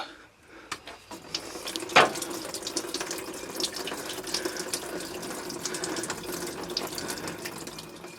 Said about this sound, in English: Now when I remove that hose, the antifreeze should come pouring out.